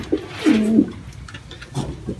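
Pigeons coo softly nearby, a low throaty call followed by fainter answering coos.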